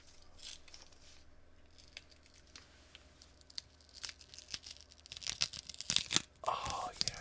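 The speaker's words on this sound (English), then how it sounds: "oh yeah, look at that paper, it just rips." Paper wrapping is ripped off a Flesh and Blood Everfest card box in close, crisp tearing and crinkling bursts that grow louder toward the end, with a quiet voice speaking near the microphone.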